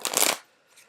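A quick burst of oracle cards riffling and flapping together for a fraction of a second, close and crisp, then near silence with a faint soft rustle.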